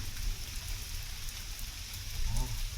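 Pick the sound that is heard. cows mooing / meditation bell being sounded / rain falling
rain falling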